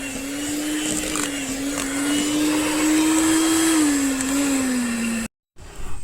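An electric mixer blends a strawberry cheesecake ice cream mixture, a loud, steady motor whine that runs for several seconds and then cuts off abruptly.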